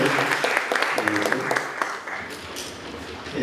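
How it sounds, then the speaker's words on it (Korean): Audience applause fills a launch ceremony for the Gyeongbuk Education 2030 transformation task force: dense, steady clapping from a large crowd that runs throughout, with a voice speaking over it. "함께한다는 의미로 큰 박수 부탁드리겠습니다"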